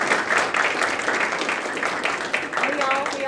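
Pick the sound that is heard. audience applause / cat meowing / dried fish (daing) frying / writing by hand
audience applause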